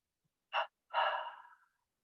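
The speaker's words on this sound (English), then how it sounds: "Let's use the double breath as a bridge into silence, double breath, breathing through the nose" A person draws a short sniff in through the nose, then after a brief pause takes a longer, deeper inhale through the nose that tapers off, a double breath in a quiet guided meditation setting.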